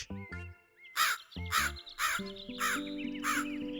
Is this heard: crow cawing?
yes